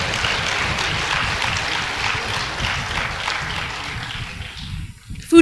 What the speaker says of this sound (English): One more time, ladies and gentlemen, a round of applause.